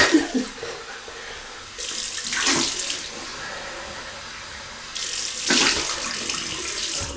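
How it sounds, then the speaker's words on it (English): Running cold tap water splashes steadily into a sink, swelling louder twice as something is rinsed under the stream. "Cold Welsh water rinse."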